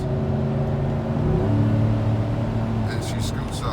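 A 2014 GMC Yukon Denali accelerating on the highway, with a steady engine hum and road rumble whose pitch climbs gradually while a person talks over it.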